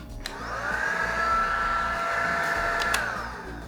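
A Roborock handheld vacuum cleaner runs on its lowest setting, giving a steady close whine and airflow hum that starts up, holds level for about three seconds, then winds down, with no voices.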